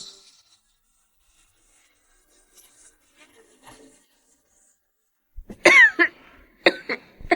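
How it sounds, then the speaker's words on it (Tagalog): Faint scattered rustles and small sounds, then a burst of harsh coughing from a woman in a TV drama scene, a few coughs in quick succession, close and loud. "Kanina ka pa ubo ng ubo ah."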